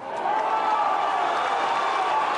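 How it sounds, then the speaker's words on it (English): A boxing crowd at a professional fight shouts and cheers in a continuous, loud roar that swells at the start and then stays steady, with clapping mixed into the din. "Come on, Scott, let's go. Is the shout from the crowd."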